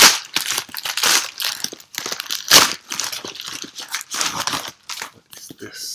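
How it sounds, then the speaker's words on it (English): A fancy plastic package is torn open with bursts of crinkling and crackling plastic, close and irregular, with faint speech mixed in. "This one is in one of these fancy schmancy plastic packages."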